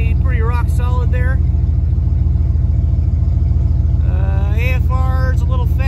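A cold car engine idles steadily as it warms up on a DIY returnless fuel pump system with MegaSquirt3 engine management, a loud, continuous close rumble under someone talking.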